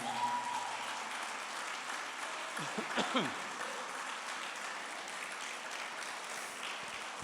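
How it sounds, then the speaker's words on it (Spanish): Steady applause from a church congregation fills the space, a dense wash of clapping that holds evenly throughout. "Dele un aplauso al Señor."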